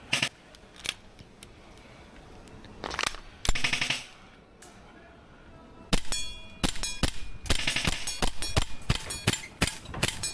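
An airsoft gas pistol fires repeatedly until its magazine runs empty, sharp snappy cracks in scattered single shots and then quicker strings of pops, close and crisp with a faint hiss between.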